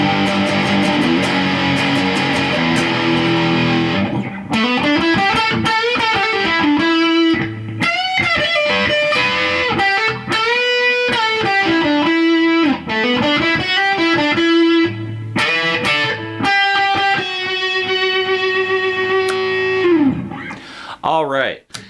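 Electric guitar on the bridge pickup played through a Rat clone distortion pedal, chords and sustained notes ringing loud and saturated, with pauses between phrases.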